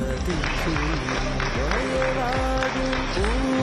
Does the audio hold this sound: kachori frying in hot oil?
no